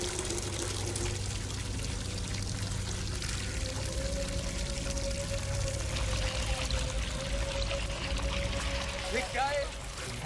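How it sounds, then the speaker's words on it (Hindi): Water pours steadily from a household tap into a bucket, a continuous splashing stream lasting throughout, with people talking faintly alongside. "देख कैसा पानी आ रहा है।"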